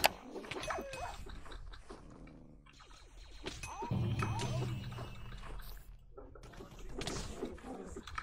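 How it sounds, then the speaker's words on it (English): Several dogs bark in the Minecraft Smash Heroes minigame, bursts of yapping recurring across the clip amid game noise and clutter, fairly close and moderately loud. "Uh oh, lots of puppies."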